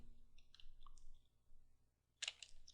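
Light clicks of keys being typed on a computer keyboard, a few quiet taps close by, then a brief pause before a sharper cluster of keystrokes.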